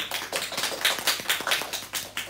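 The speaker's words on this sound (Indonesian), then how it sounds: "Kita beri aplaus dulu untuk Kak Riri" An audience claps for a speaker after a talk on drug abuse, a steady patter of many hands with a low constant hum underneath and no voices over it.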